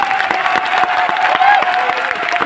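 Audience applause at a Rootpure Success Day training event in Patna, a dense, steady clapping from a large crowd filling the room at a loud, even level throughout.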